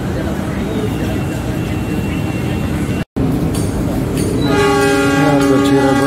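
A train rumbles steadily into Bekasi station, loud and close, then sounds a long, sustained horn after a brief break.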